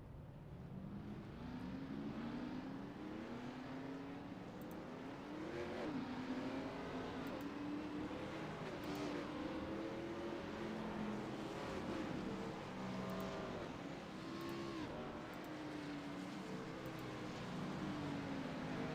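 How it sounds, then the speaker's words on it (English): Race cars at the Brickyard roll off for the Brickyard 200, a steady layered drone of many engines revving and rising in pitch as the pack moves, heard continuously at a distance with no talk. "As the cars will roll off here momentarily."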